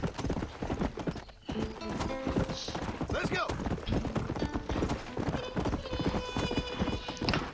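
Horse hooves in Red Dead Redemption, a loud rapid clip-clop of galloping near the listener, with a brief whinny and a voice talking over it.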